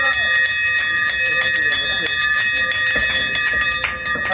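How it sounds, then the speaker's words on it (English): A celebration bell is rung rapidly and repeatedly at a transplant house, a loud, bright, sustained metallic clanging with strong ringing overtones and people's voices mixed in. "Oh yeah. I'm ringing the bell!"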